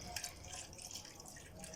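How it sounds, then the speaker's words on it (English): Water poured into a pot while making Nigerian bean soup (gbegiri), a faint, brief trickling and splashing heard alone at low level. "Just add a little water"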